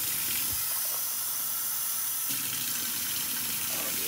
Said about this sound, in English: Okay, so that means I need 4 cups of water, so we're gonna get that first.